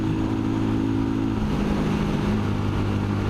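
A Royal Enfield Scram single-cylinder motorcycle engine drones steadily while riding, its low pitch sagging midway as the revs drop, loud and continuous under wind rush.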